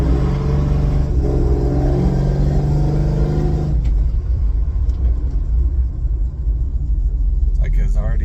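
A Plymouth Cuda with a heavy-duty built transmission pulls away hard, its engine rumbling loud and steady with a rising tone that drops as a gear changes, heard from inside the car.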